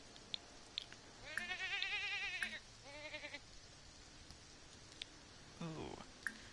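Goat in a video game bleating in two wavering calls, the first longer, over a quiet background with sparse clicks, then a short rough sound near the end.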